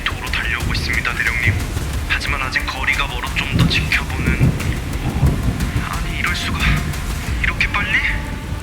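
A thunderstorm at sea: steady heavy rain and wind with low rumbling thunder throughout, under continuous narration.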